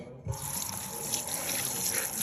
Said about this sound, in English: Rinse that down.